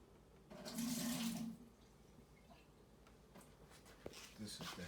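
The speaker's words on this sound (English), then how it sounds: "Now we're gonna add 2 cups and a half of water." Water is poured in a short, close splashing stream into a crockpot of baked ziti, followed by quiet kitchen handling sounds.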